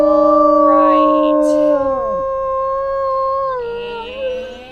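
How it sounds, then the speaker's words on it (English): A wolf in the WolfQuest game lets out a loud, clear, sustained howl, the long tone bending and sliding downward, followed by fainter overlapping howls fading in the distance. "then we should be able to howl."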